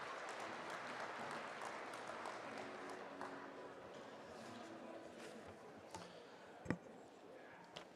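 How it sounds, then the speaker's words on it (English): A room full of people applauding, steady clapping that gradually thins out, with a sharp knock near the end. "Big round of applause for Randy Donauer."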